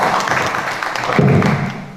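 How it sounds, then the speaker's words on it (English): Audience applause at a conference forum in a theatre, a dense wash of many hands clapping steadily for two seconds with a low thump partway through and faint voices underneath. "Clap for her again."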